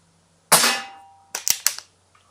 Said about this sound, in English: So I might keep shooting just to see if I can get a more distinct pattern happening here.